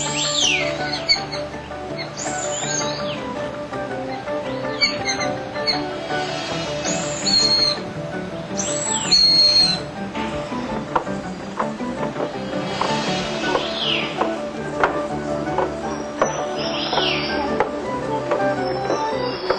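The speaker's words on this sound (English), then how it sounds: "we can see the white-throated laughing thrush in groups. They call and sing while frequently moving about" A chorus of white-throated laughing thrushes calls and chatters continuously in a group, with rising whistled notes and rapid babbling phrases over a dense, lively background, in Lalashan forest.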